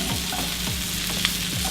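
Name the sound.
breakfast fried rice frying in a pan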